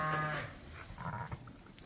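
Newborn lambs in a crowded lambing barn, one close, short bleat at the start followed by quieter shuffling and faint animal noises.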